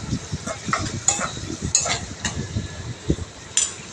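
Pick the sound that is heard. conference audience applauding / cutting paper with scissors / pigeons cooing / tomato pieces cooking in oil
tomato pieces cooking in oil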